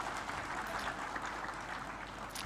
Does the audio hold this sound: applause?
yes